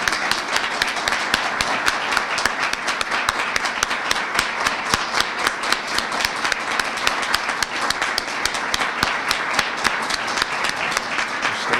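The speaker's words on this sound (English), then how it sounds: "Applause is allowed." Sustained applause from a large crowd at a ceremony announcing a new college president, steady and dense clapping that continues without pause throughout.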